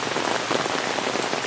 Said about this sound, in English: Yeah, we got some rain here.